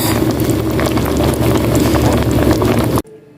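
Curry tofu in coconut milk simmers on a stove with a steady, loud bubbling hiss close to the pan, cutting off abruptly near the end.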